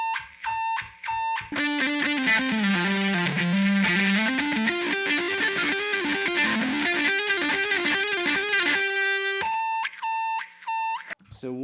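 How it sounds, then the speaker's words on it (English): Electric guitar runs through wah and fuzz pedals, sweeping wah tone over heavily distorted, buzzing sustained notes, bracketed by sharp, separate beeping tones before and after, noisy and fairly loud. "Now, wah does come alive if you combine it with fuzz, but yeah, noise."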